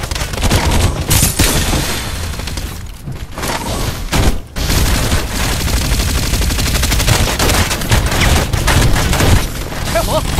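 Gunfire in the battle game Farlight 84 during a team deathmatch, dense loud rapid bursts of automatic fire with booming impacts almost nonstop, one brief gap midway, with voices over it.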